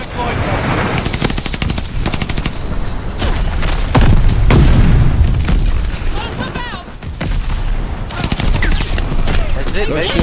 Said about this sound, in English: Friendly, sending a glide bomb.